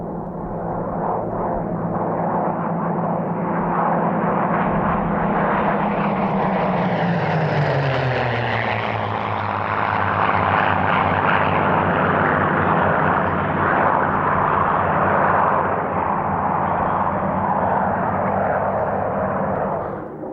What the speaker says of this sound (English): Next to display are the later marks of Spitfire. 1 Mark 9, 2 Mark 14s, all owned by the Fighter Collection.